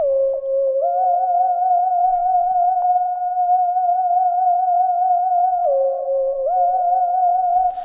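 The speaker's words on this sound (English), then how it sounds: "Got some sine wave action here on the Juno 106." A sine wave lead patch on a Juno 106 synthesizer plays a clean, pure-toned melody of long sustained notes with slight vibrato, stepping between a few pitches, clear and alone.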